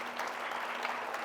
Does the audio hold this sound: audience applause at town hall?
yes